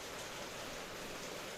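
Heavy rain in a Hindi cartoon pours as a steady, dense hiss with no breaks and no voices over it.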